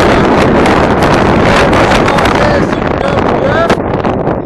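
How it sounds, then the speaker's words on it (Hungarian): Strong wind buffets the microphone outdoors in cold weather, a loud continuous roaring rumble with gusty surges that swamps everything else for the whole stretch. "abból az irányból ottan fúj a szél, onnan erre ide. Ide belefúj,"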